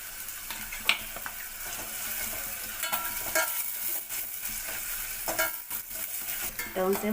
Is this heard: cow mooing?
no